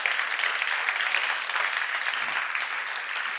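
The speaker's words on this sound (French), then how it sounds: "Vous pouvez vous applaudir parce que vous êtes formidables." Steady, dense applause from a large audience at the close of a faith conference, holding at an even level throughout without a break.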